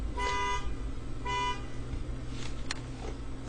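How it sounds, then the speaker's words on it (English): A car horn honks outside, two muffled, moderately distant toots with a pause between them, over steady low background rumble. "Somebody's honking outside."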